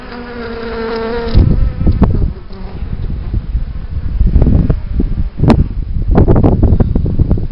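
Worker bees buzz loudly and continuously on the honeycomb inside a hive, a dense close drone with some rustling and shifting bursts throughout.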